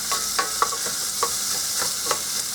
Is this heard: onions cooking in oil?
yes